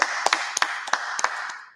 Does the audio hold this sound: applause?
yes